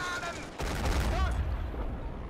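Pz.38 light tank firing its gun in Steel Fury Kharkov 1942, a sudden loud crack followed by a rumbling blast, with metallic ringing and game sounds lingering after.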